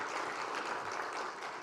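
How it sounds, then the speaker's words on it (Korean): A church congregation at a Sunday service claps in welcome, a steady, even patter of many hands with no voices over it. "여러분 박수로 환영해 주시면 좋겠습니다"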